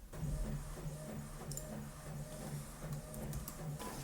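An Epson WF-2930 inkjet printer printing a page, a steady mechanical whir with rhythmic carriage pulses and faint clicks, running continuously at close range with no talking.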